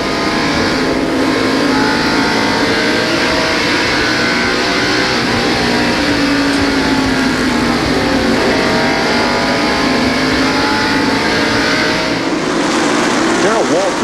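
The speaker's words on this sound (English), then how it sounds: "We're inside Sterling Marlin's car right now, watching second place Darrell Waltrip" A stock car engine at full race speed on the Bristol short track, heard from an in-car camera in 1989: a loud, continuous roaring drone with subtle pitch swells, under a commentator's voice.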